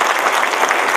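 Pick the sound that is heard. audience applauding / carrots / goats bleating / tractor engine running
audience applauding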